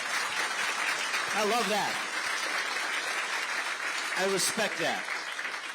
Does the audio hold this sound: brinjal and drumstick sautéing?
no